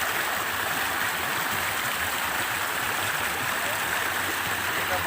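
Water rushes steadily through a deep cave in a forest, a dense, unbroken roar heard close and loud throughout.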